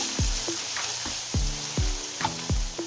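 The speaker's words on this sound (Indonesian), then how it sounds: "kemudian kita tumis deh seperti ini" Finely chopped ginger sautéing in a hot pan, a steady oily sizzle broken by several low, thudding knocks of a spatula against the pan roughly every half second.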